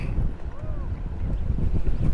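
Strong wind buffeting a DJI Mavic Air 2 drone in flight: loud, continuous low rumble of gusts against the microphone, with a brief faint electronic tone rising and falling under it.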